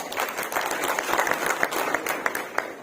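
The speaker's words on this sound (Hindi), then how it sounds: "आप सभी भी अपने लिए एक बार ताली बजाएं" An audience at a company founder's speech gives a brief burst of applause, dense and even clapping from many hands, moderately loud with no talk over it.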